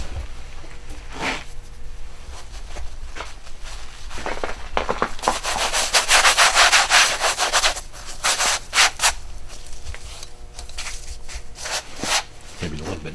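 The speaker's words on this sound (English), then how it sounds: "just generally rub some on the skin" Rubbing preservative by hand onto a trapped animal's skin and fur, a soft continuous scrubbing and brushing sound with louder, denser strokes in the middle, recorded close with some faint speech.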